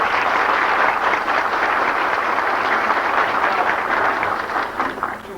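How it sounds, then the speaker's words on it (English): Steady round of applause from an audience at a congressional hearing, sustained clapping for about five seconds and thinning slightly toward the end. "And let's hear a round of applause."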